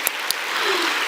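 A church congregation applauds during a testimony, with a couple of sharp early claps leading into a short, continuous wash of clapping at fairly loud level.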